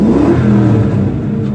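A Ford Mustang 5.0 V8 revs loudly and close by, a deep sustained engine roar with shifting pitch that fills the short moment without any talk.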